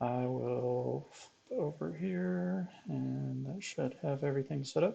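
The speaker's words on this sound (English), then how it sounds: "Pardon the dogs barking in the back if you do happen to be able to hear them" Dogs barking and growling in the background of a home, faint and intermittent, mostly buried under a person's steady talking.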